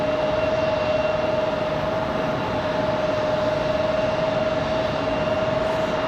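A Spirit Airlines airliner taxiing in at Raleigh-Durham airport gives a steady, continuous engine roar with a sustained high whine throughout, with no talking.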